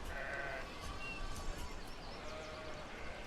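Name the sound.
sheep bleating in the video game Banished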